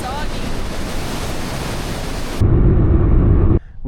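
Rushing water from a waterfall beyond a cave in Banff National Park roars as a steady broadband wash, growing louder and deeper partway through, then cutting off suddenly.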